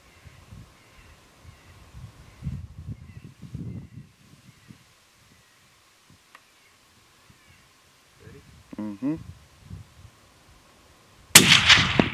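A single loud rifle gunshot rings out sharply near the end of a coyote hunt in fall countryside, following quieter stretches of low voices and scattered bird calls.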